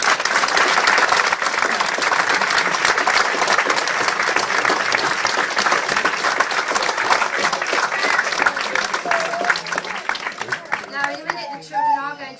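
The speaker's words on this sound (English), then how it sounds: "A huge round of applause." A school audience at a Christmas performance gives sustained, dense applause that continues strongly for many seconds, with voices and a few cheers rising as it thins out at the end.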